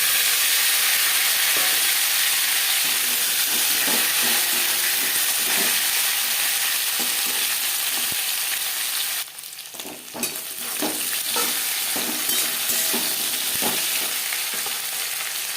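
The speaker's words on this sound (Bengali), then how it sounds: "জিরে ভেজে নেওয়ার পর দিয়ে দেবো কাঁচকলা" Green banana frying in hot oil with whole cumin seeds after fish was fried in it, a loud continuous sizzle and hiss with a brief dip midway, then scraping stirs and crackles nearby.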